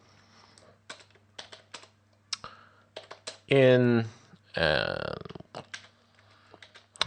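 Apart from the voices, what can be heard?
typing on a computer keyboard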